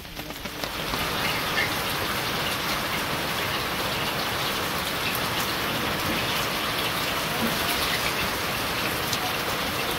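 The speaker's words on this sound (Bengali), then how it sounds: "কি করি ওখানে এই বৃষ্টিতে" Rain falls steadily in a village, a loud, even patter and hiss that starts almost at once and continues unbroken, with no talking.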